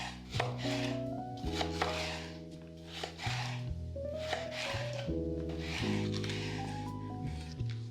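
A knife chops slices into long thin strips on a board, with crisp repeated cuts close up under steady background music.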